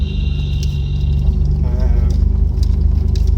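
Nissan GTR engine rumbling loud and close as the car creeps up a rough driveway of two tracks with a grass-and-mud hump between them, with a voice talking over the engine throughout.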